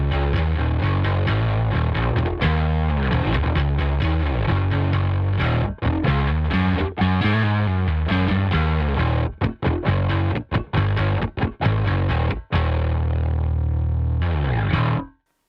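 Heavily distorted ML USA bass guitar played through a 15-inch speaker cabinet impulse response with compression and a noise gate, a thick, gritty riff of rapid, steady notes that cut off abruptly near the end.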